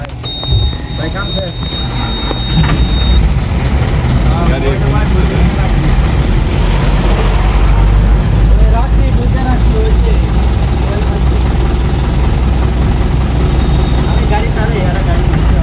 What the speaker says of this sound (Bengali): দেখেন গাড়ি কিন্তু স্টার্ট আছে, সাউন্ড পাওয়া যাচ্ছে সম্ভবত